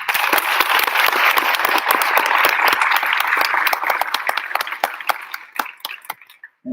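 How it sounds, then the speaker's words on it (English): A crowd at a senior awards ceremony applauds with dense, loud clapping that holds steady for several seconds, then thins into scattered claps and fades out. "So round of applause for those two."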